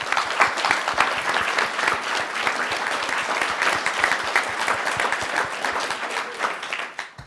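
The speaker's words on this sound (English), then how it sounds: "I'm sure you want to welcome her with me with a round of applause." A conference audience of English teachers breaks into a steady, dense round of applause to welcome a speaker, many hands clapping together at an even volume for several seconds with no talking.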